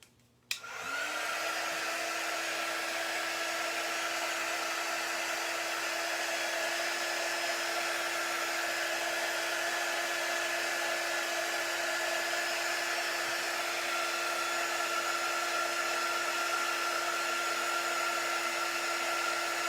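A hair dryer blowing on wet paint switches on with a click and then runs steadily and loudly throughout, a continuous airy whoosh with a fixed motor whine, close to the mic and with no talking.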